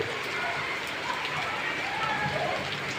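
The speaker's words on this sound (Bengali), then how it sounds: "প্রচুর পরিমাণ বৃষ্টি এলাকায়।" Heavy rain pours down steadily in a rural area during a storm, forming a dense, continuous wash of patter with no breaks.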